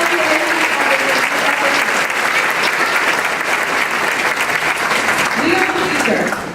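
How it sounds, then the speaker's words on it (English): High school graduates clap for themselves in a school gym at a commencement ceremony, a loud, dense, sustained burst of applause from a large crowd, with some voices and cheers mixed in, fading slightly at the end. "give yourselves a round of applause"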